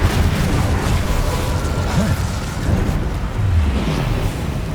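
In Hogwarts Legacy an Incendio fire spell is cast, a loud whooshing, rumbling burst of flame that keeps a heavy low roar throughout, with no talk over it.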